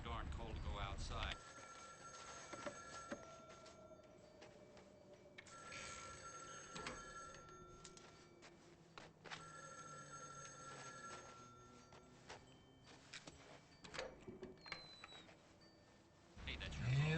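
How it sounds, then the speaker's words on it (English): An old-style telephone bell rings repeatedly in a cold-weather Milwaukee setting, in several bursts. The rings sit under a busy background of music, other sounds and a broadcast-style mix. "Hey, that's your phone."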